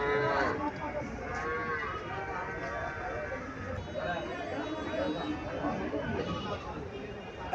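Bull calves low and moo at a busy village cattle market in Comilla, their calls coming repeatedly amid the constant chatter of the crowd.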